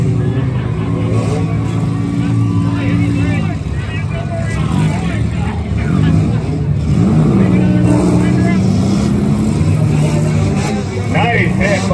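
Demolition derby cars at a Fourth of July weekend event rev loudly with roaring, shifting engine tones and occasional impacts, close and dense throughout while a voice talks over the noise.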